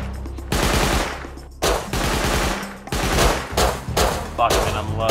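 Automatic gunfire from the video game Rust comes in dense, loud bursts of rapid shots with brief gaps between volleys.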